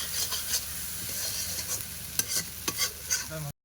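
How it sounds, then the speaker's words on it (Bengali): A spoon stirs coriander powder into egg korma in a pan, giving soft, uneven scraping and clinks over a gentle sizzle, close and alone. "দিয়ে আমি ভালো করে নাড়াচাড়া করে নেবো।"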